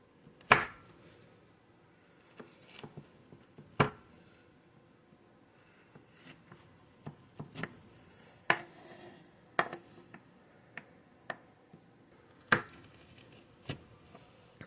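A knife cutting through chocolate coconut candies, firm, separate chops and taps against a board at an irregular pace, close and fairly quiet, with no talking.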